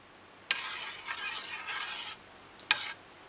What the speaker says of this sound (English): You stir around.